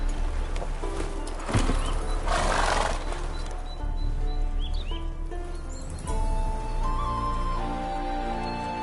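Roach, a horse in The Witcher 3, neighs and whinnies briefly near the start, with hoof clip-clop over a continuous bed of game music and ambience.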